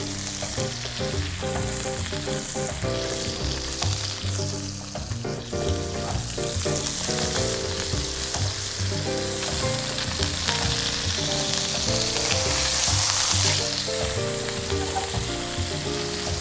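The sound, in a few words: tuna, scallops and shrimp sautéing in a pan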